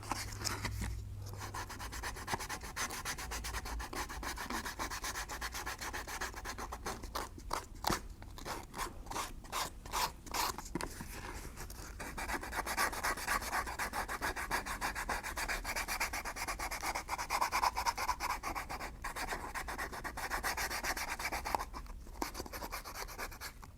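Sanding along a leather edge to clear squeezed-out cement, a steady close rasping rub that runs continuously with rapid back-and-forth strokes and no voices.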